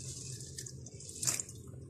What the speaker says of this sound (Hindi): इसमें इतना पानी डालेंगे कि चावल इसमें डिप हो जाए।